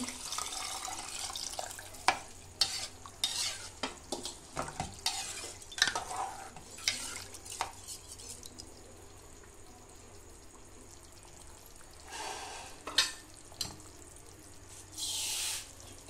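Rice and water being stirred in a pressure cooker: irregular scraping and sloshing clinks, with watery splashing bursts, moderately quiet and close, with no talking.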